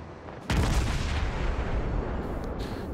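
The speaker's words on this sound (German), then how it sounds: "Den Rest sollte dann die Artillerie machen." Naval artillery in the World of Warships game: one heavy boom that cuts in sharply and then rolls on as a dense, loud rumble filling the rest of the short stretch, with no talk over it.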